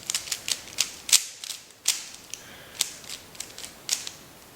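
A speed cube with tight tensions being turned and corner cutting, giving a string of sharp, close plastic clicks and clacks at an uneven rhythm with no talking.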